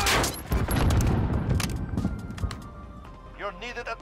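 Bursts of ISO SMG fire during Call of Duty Modern Warfare multiplayer, rapid automatic shots in several runs up close, mixed with game effects and a short tonal sting near the end.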